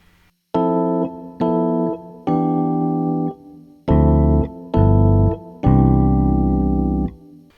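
Jazz piano playing a II-V-I progression in drop 2 voicings: six sustained block chords, the first three shorter and brighter, the last three fuller with deeper bass, each clearly separated by brief gaps, played alone and close.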